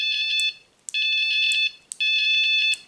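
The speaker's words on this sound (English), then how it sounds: "that is the buzzer" The buzzer on a Raspberry Pi toy tank, used as its horn, sounds three loud, close electronic beeps of about a second each, with short gaps between them and no voices.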